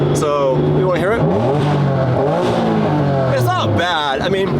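An Acura NSX with factory titanium connecting rods revs hard, its engine note sweeping up and down in repeated rising and falling pitch runs, loud and close, with people talking over it.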